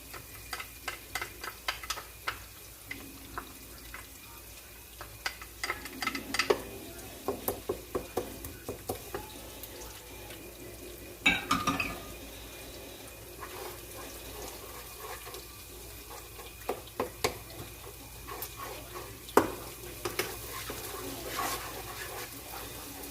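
Sofrito for a Puerto Rican-style sloppy joe sizzles in a pan while a spoon stirs it, a steady low crackle broken by repeated scraping, clattering strokes, close and moderately quiet.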